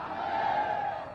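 A crowd at an election rally in Auraiya, Uttar Pradesh, gives a short loud cheer, a sustained roar of many voices rising and falling over about a second.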